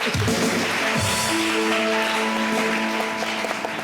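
A studio audience claps in a television entertainment show, a dense wash of applause running throughout, with steady musical tones sounding over it.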